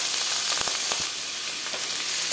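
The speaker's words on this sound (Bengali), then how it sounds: "পেঁয়াজটা ভাজা হয়ে গেছে, এবার দিয়ে দেবো পরিষ্কার করে স্কিনটা।" Cleaned chicken skin hits fried onions in a pan with bay leaf and whole garam masala, giving a steady, bright sizzle broken by a few quick stirring clicks.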